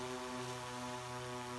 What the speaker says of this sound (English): You can see we have some good response with the drone.